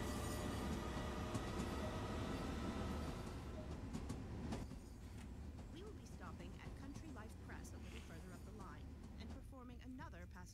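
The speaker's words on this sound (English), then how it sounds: "here's the outside of the train, fairly loud" Outside a Long Island Rail Road train in the Train Sim World video game there is a loud steady rumble of the running train, which eases a little partway through while a person talks over it.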